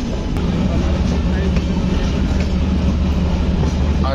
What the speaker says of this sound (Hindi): देखिए वहाँ सामने से हमारी क्रॉस कर रही है दानापुर सिकंदराबाद एक्सप्रेस जो कि सिकंदराबाद से चल के आ रही है